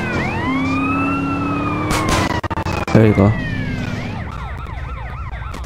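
An ambulance siren in Grand Theft Auto: San Andreas wails loudly in rising and falling sweeps, broken by a short thud and pause midway, then resumes; someone speaks briefly over it.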